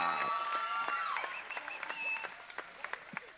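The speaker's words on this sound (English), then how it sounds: "Let's give both these guys another big round of applause" A crowd at a fight event applauds the fighters after a knockout finish, a dense wash of clapping with some cheering that slowly thins into scattered individual claps.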